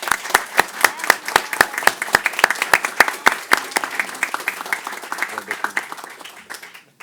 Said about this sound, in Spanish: Le voy a pedir a todos nuestros amigos aquí un aplauso para ti.